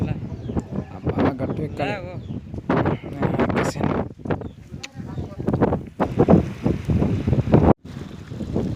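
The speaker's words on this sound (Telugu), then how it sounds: "గాలి చాలా వీస్తుంది గట్టిగానే" Strong gusty wind buffets the microphone in rough roaring bursts over open rice paddy fields, with people talking loudly over it throughout.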